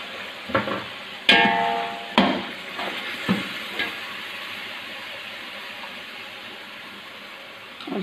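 Boiled beef fries with masala in a pan with a steady, close sizzle. A few sharp spoon scrapes and clanks come early, then the sizzling continues alone.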